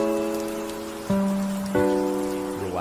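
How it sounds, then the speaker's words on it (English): Rain patter from an Animal Crossing rainy-day music track, a steady soft hiss of drops running beneath sustained, gently shifting musical tones. "Relaxing, rainy day, Animal Crossing music."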